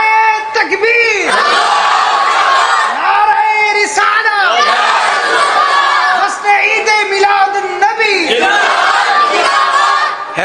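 A large crowd at an Eid Milad-un-Nabi religious gathering shouts a takbir response in unison, loud and sustained, with voices surging together in repeated waves of chanting.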